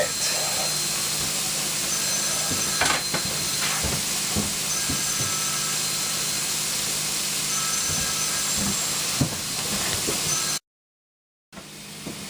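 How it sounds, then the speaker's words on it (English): Burger patty and loose ground beef steaming in a covered pan, a continuous loud sizzling hiss with occasional pops and crackles, close up, briefly cutting to silence near the end. "I guess I just gotta sit here and steam this here burger"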